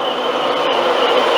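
A train rolls into Newark North Gate station with a loud, continuous rumble and rail noise close by, steady throughout, with no voices.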